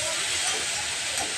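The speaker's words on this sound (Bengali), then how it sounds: "দুধ ভাজা করছি আর সয়াবিন আলুর তরকারি করবো।" Milk frying in a pan for a vegetarian home-cooked meal, a steady bright sizzling hiss that holds evenly throughout, close and continuous.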